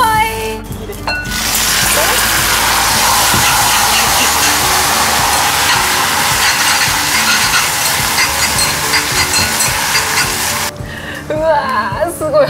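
A loud, steady hiss of ankake yakisoba sizzling in a hot iron pan fills about nine seconds, with a clack of metal and brief voices at the start and end.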